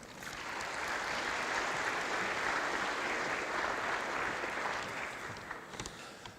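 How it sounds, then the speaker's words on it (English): An audience at Dodge City Community College's State of the College address applauds Jeff Cole, with steady, full clapping that swells quickly, holds for several seconds, then tapers off. "Please give him a round of applause"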